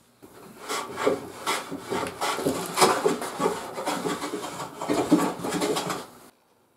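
A hand plane shaves a wooden board in long strokes along its full length, producing steady rasping, scraping passes with short pauses, close and fairly loud, with no speech.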